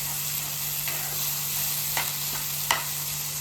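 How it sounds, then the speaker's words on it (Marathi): Green masala paste sautéing in hot oil while okra fry is prepared, giving a steady, fairly faint sizzle with a few soft stirring scrapes; no one speaks. "अशा प्रकारे मी इथे हिरवं वाटण जे आहे व्यवस्थित परतून घेतलेलं आहे."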